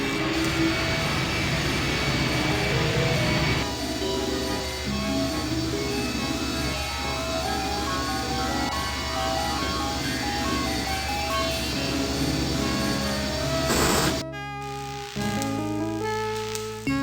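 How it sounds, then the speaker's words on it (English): Engine starting up in the I Have No Mouth and I Must Scream video game, a loud continuous droning roar with a shift partway through and then a sharp change to a tonal, pulsing hum, with no voices. "The engine's starting up again."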